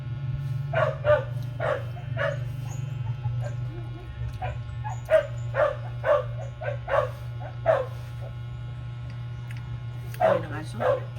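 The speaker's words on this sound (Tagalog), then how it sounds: "Ay, ng aso." A dog barks in a series of short yips and woofs, some in quick pairs, over a steady low hum, with a brief burst near the end.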